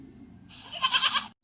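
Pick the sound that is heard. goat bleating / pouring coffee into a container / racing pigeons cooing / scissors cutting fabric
goat bleating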